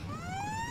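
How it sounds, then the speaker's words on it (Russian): Retro car siren in the driving game BeamNG.drive, a steady electronic tone sweeping smoothly upward in pitch, loud and continuous over a soft engine rumble for under a second. "Смотрите, какая у нее сигнализация интересная. Сирена."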